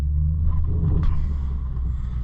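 A four-wheel-drive truck hauling ice water drives uphill on a winter road, its engine a steady, loud low rumble close by with no talk.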